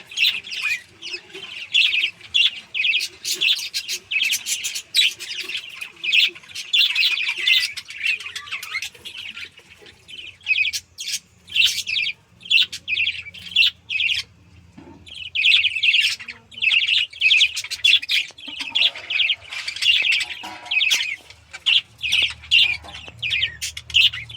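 Pet birds in a breeding bird house chirp and tweet steadily and busily for the whole stretch, in rapid overlapping bursts with short lulls and the odd squawk, close by and with no talking.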